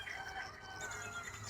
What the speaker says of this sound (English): You hear the rooster crowing?